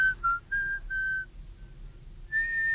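A man whistles a short tune alone, clear high notes in a few held phrases with brief gaps, fairly close in a quiet room.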